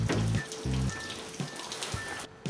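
Steady rain patters on a surface nearby, a soft hiss with scattered drops, interrupted by a few low thumps.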